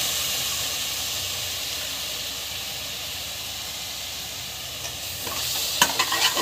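Curd gravy sautés in a pan with a soft, steady sizzle and hiss, and a few stirring scrapes and clinks come near the end.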